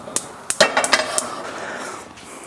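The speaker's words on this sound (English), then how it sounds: "We'll throw a pan on the heat straight away." A metal pan set down on the stove with a few clanks and clinks of cookware, short and close, followed by a quieter fading tail.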